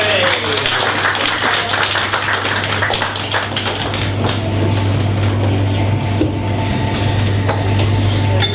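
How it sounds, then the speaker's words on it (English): Audience applause at a book launch in a bookshop, a sustained patter of many hands clapping over a low steady hum, fairly loud and continuous. "So I'll hand you over and a big round of applause for Andrea."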